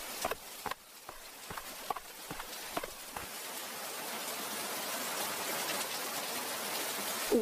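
Heavy rain pours down in a steady, dense hiss that builds and fills the scene, preceded by a few sharp knocking or hoof-like thuds early on.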